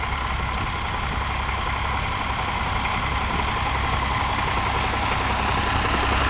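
A Fordson Dexta tractor engine running with a loud, continuous diesel rumble close by and a dense, steady throb that fills the whole clip without any voices.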